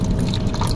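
Cold water running from a public drinking tap outside a mosque, a loud, close, continuous splashing rush with no talk.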